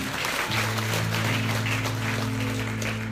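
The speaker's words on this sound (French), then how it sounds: "Applaudissez Jésus" A church congregation at a French-language sermon applauds in praise, giving steady crowd clapping. A sustained low musical tone, likely organ or keyboard, enters early and holds under the clapping throughout.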